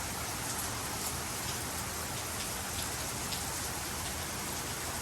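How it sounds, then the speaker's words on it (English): Rain pours steadily in wet weather, an even, loud wash of drops pattering on nearby surfaces throughout, with no talking. "It is amazing the wet weather."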